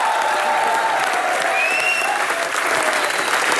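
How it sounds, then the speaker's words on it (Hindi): A TV studio audience on The Kapil Sharma Show breaks into loud, dense applause that holds at full strength, close and continuous from start to finish. "इसके लिए तो जोरदार तालियां।"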